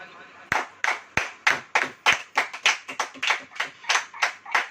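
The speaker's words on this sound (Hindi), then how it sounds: "ताली बजाओ।" A church congregation claps in a steady, loud rhythm of sharp hand claps, roughly three per second, with no talking over it.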